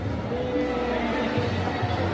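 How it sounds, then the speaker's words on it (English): Crowd babble fills a busy play area inside a Noida shopping mall, with many overlapping voices close and far, a constant murmur punctuated by nearer chatter. "look at the crowd. It's so crowded."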